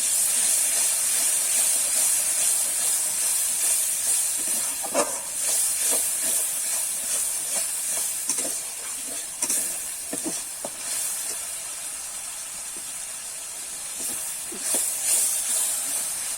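Onion paste sizzling in a pan while pea ghugni cooks, a steady loud frying hiss that continues throughout with occasional clicks of stirring.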